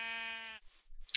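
A Minecraft sheep gives a single clear, nasal bleat lasting about half a second, followed by a short gap and a faint click.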